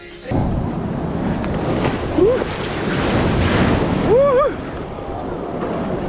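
Ocean waves break at a surf school beach in Bali with a continuous roar of surf and wind noise. A couple of brief voiced cries rise over the surf.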